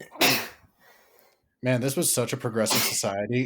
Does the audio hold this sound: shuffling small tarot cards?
no